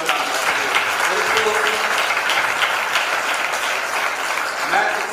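A congregation at a worship meeting in P. C. F Church, Nurmahal, gives dense, loud, sustained applause, steady throughout with no talk.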